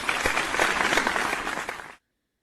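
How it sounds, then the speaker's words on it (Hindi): A crowd claps loudly as a sound effect in a children's moral story, a thick wash of applause and noise that holds steady for about two seconds and then cuts off abruptly into silence. "वह लोग जोर जोर से ताली बजाने और शोर मचाने लगे।"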